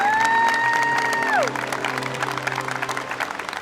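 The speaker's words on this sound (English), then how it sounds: "Let's give them all a round of applause." A crowd applauds veterans at an Honor Flight welcome event, steady clapping under a sustained whistle-like tone that sweeps down, then looser applause continuing.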